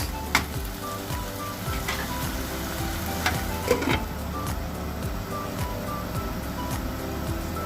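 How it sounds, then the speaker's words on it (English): A chicken kofta curry sauce with chilies and tomatoes is stirred in a hot pan, a continuous frying sizzle with occasional spoon scrapes and knocks, close and clear, with no voices. "I'm going to add my chilies. Give it a good stir, guys."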